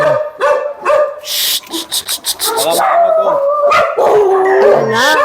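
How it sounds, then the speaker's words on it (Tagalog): Several large dogs at a shelter property howl and bark, long wavering howls overlapping with sharp barks and yips, loud and close, with a voice briefly calling among them. "andito rin daw yung mga malalaking aso"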